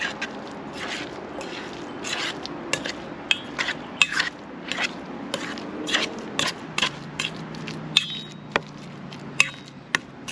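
A spoon stirs a spicy potato mix in a bowl, giving repeated close clinks and scraping knocks at an irregular rhythm over a low background hum.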